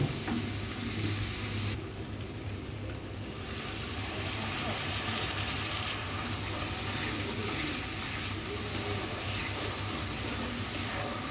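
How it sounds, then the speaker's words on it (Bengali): Spices for a baim (eel) fish curry with chili powder fry steadily in a pan, a dense continuous sizzle with occasional stirring scrapes, close and fairly loud throughout. "সবগুলো মশলা খুব ভালো করে আমি কষিয়ে নিব।"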